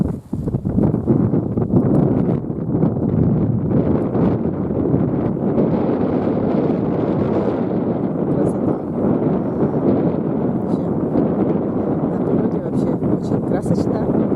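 Strong wind blows outdoors beside a river on a cool, sunny day, buffeting the microphone in a loud, continuous roaring rumble that lasts throughout, with a voice faintly present underneath.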